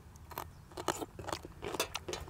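Crispy fried pork tail being bitten and chewed close up, a run of sharp, irregular crunches and crackles, fairly quiet and without talk.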